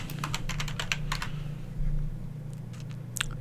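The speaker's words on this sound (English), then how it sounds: "So you just click anywhere, start typing." Rapid clicking keystrokes on a computer keyboard rattle off in a quick run, then a few more scattered taps follow over a steady low electrical hum.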